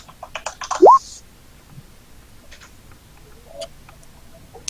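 Keys on a computer keyboard tap in sparse, light clicks at close range during an online tabletop game session, after a short burst of voice-like sound at the start.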